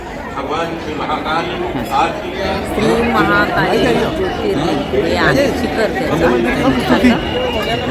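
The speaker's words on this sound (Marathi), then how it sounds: "असं दर्शन झाल्यानंतर आलो बाहेर तर प्रचंड गर्दी आहे" A large, dense crowd outside the Mahakaleshwar temple in Ujjain fills the air with continuous close-up chatter and babble, many voices overlapping at a steady, lively level throughout.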